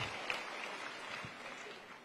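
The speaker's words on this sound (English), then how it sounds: "by round of applause" A studio audience at a live show claps steadily in a dense, even wash of applause that fades slightly toward the end.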